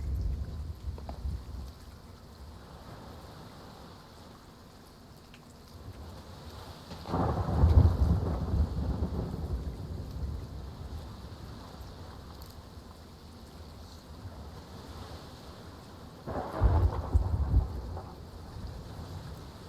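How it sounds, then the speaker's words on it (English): Thunderstorm in the pirate video game Sea of Thieves: steady rain hiss carries throughout, and two deep rolling thunder rumbles swell and fade about ten seconds apart, with no voices. "So the storm is back."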